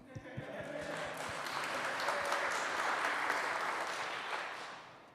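Steady applause from an audience at a Boy Scout troop's Eagle Scout Court of Honor swells into a continuous wash of clapping, with a brief voice near the start, then tapers off at the end.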